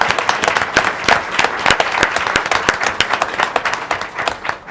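At a school district board of trustees meeting, an audience applauds four honored women with steady, fairly close clapping in which individual claps stand out, holding at a consistent level throughout.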